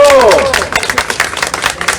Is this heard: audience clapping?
yes